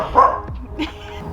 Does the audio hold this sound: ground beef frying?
no